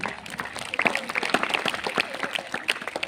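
Audience applause at a school Hindi Day celebration fills the room, a dense patter of many hands clapping steadily with some voices mixed in.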